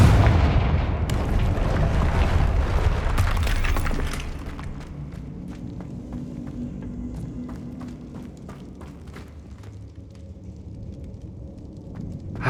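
A Confringo blasting spell explodes in the Hogwarts Legacy video game, a loud booming burst up front that rumbles and fades into scattered crackling debris and quieter ambient game sounds.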